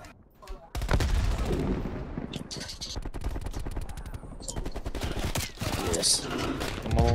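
Gunfire in the video game Call of Duty Black Ops Cold War during a team deathmatch hardpoint match, rapid bursts of loud shots cracking repeatedly over several seconds, with a player talking between volleys.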